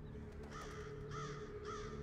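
Crows give three harsh, rasping caws at a moderate distance, spaced about half a second apart over a low, steady outdoor background.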